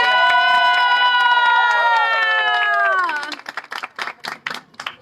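An audience breaks into scattered clapping in irregular bursts after a loud, sustained wavering vocal or tonal sound fades out, the applause closer and choppier than a full ovation.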